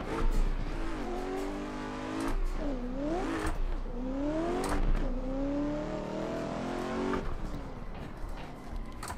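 An HDC 350 race car roars through a driving game played on a wheel and pedals, its engine revving up and down through repeated gear shifts with rising and falling whines and brief tire squeal, loud and close with no voices.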